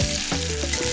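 Trout fillet just flipped skin-side in a hot pan, giving a loud, dense, continuous close-up sizzle with brief crackles over one second.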